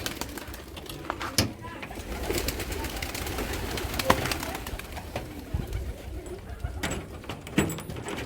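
Jalali pigeons coo softly inside a loft, their low calls mixed with scattered knocks, clatter and wing movement nearby.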